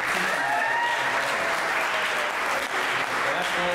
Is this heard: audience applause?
yes